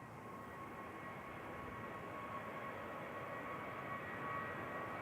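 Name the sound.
TUI jet departing Manchester Airport, turning toward Tenerife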